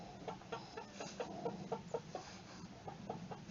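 Chickens clucking repeatedly in a new chicken run, a steady run of short, close calls over low background noise, no talk.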